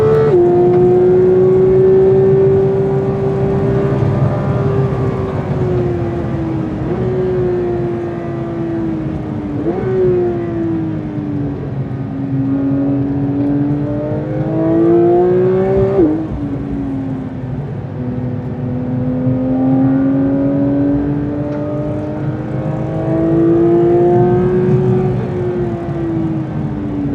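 A Porsche 992 GT3 race car on a push lap screams through its gears, loud in-car engine note climbing steadily then dropping sharply at each shift, repeated over several long pulls without talk.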